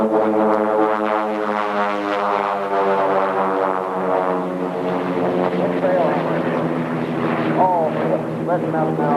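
A propeller aerobatic airplane performs an airshow maneuver, its engine droning loud and sustained and shifting in pitch as it slows and turns, with a commentator talking over it.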